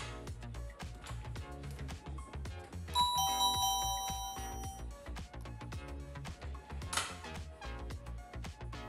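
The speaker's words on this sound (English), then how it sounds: "that's all there is to setting up that door chime automation" A Dome Siren door chime triggered by a SmartThings automation rings out over busy background music, its bright sustained tones standing out for a little over a second near the middle of the stretch.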